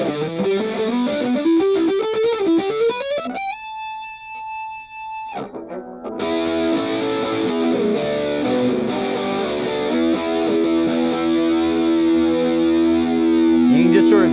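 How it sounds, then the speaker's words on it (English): An electric guitar through a digital metalizer pedal on a chorus setting: heavily distorted, wavering tones with a rising run, a held ringing note, then sustained thick chords throughout, loud and up close. "This one is chorus 1. So we're going to add that little bit of wavy effect you get from the chorus."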